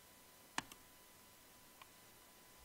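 Computer mouse click, one crisp close click followed by a softer second click and another faint click a moment later, in a very quiet room.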